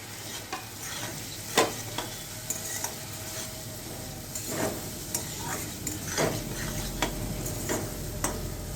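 Fried potatoes are stirred into a fried spice mixture in a pan for a Bengali-style raw banana kofta curry, with a continuous sizzle and repeated scraping stirs close by and no talking.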